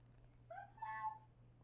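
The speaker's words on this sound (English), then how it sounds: "There you go. He meowed." A pet cat lets out a short, faint two-part meow, a rising chirp followed by a longer wavering cry, over a quiet room hum with no talking.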